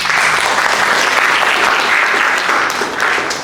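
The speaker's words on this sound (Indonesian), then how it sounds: "Beri aplaus." Steady applause from a classroom of students fills the full stretch, dense and continuous with a slight fade near the end, no talking over it.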